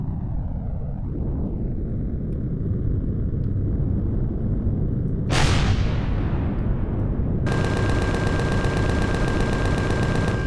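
Cannon drone attacking in the sci-fi survival game Empyrion Galactic Survival, with continuous heavy rumbling and booming weapon fire, a sharp blast midway followed by a falling whine, then a harsh buzzing rattle of rapid fire.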